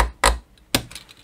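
Box cutter scoring across the copper tracks of a stripboard, two sharp, close scraping strokes about half a second apart, each with a short rattly tail, no talk.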